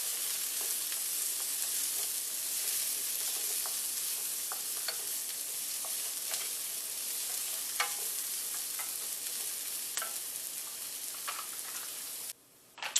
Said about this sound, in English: to get our zucchini in sauteing right along with it.